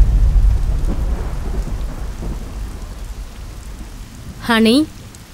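Heavy rain pours steadily through a storm, with low rumbling thunder rolling under it and a brief loud harmonic tone near the end.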